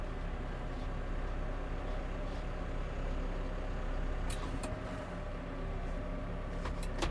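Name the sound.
T5 140 tractor engine at tick over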